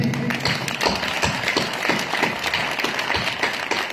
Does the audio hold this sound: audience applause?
yes